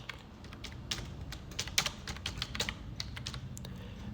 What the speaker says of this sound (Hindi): अब मैं यहाँ पे जो तेलंगाना की पार्टी है उसके जीएसटी नंबर लिखता हूँ